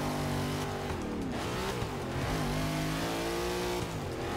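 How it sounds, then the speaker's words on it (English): Race car engine in Forza 6 revving hard and accelerating out of corners, a loud steady whine with rising and falling pitch as the gears shift, faint tire squeal mixed in and no talk. "Into the turns and accelerate out of turns."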